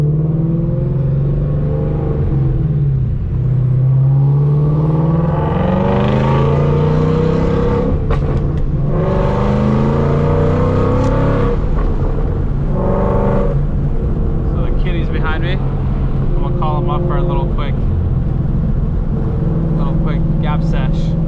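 A supercharged Ford Mustang engine revs and accelerates loudly, pitch climbing through gear changes, with people talking over the steady roar.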